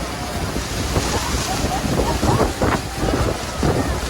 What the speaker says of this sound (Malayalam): നല്ല കാറ്റാണ് ഇവിടെ.